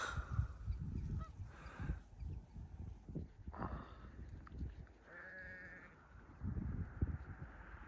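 Sheep bleat in a field beside a small steam railway, several loud, nasal calls overlapping close by with quieter gaps between them.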